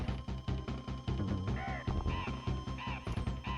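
A large bird boss in the SNES platform game Donkey Kong Country squawks in repeated harsh caws over steady, rhythmic game music and sound effects.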